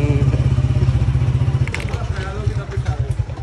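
A motorcycle is wheeled out, its engine idling with a steady low thumping throb, followed by clattering and shuffling handling noises close by.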